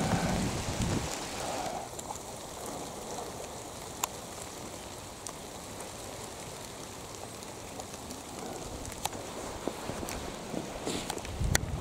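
Steady rain falling outdoors, a dense continuous patter with occasional sharper drops, fairly close, without any voices.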